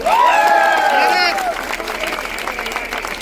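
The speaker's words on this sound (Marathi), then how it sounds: "त्या पोलिसांसाठी एकदा जोरदार टाळ्या होत्या" A crowd at a rally bursts into applause, a dense patter of clapping that follows a loud shouted voice from the stage.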